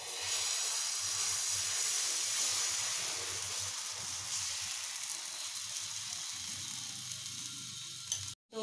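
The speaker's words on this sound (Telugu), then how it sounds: "ఇంకొక దోశ మళ్ళీ వేసుకుందాం" Wheat flour dosa batter sizzles on a hot pan with a broad, steady hiss that slowly eases over several seconds, close and continuous, ending with a brief knock; nobody speaks.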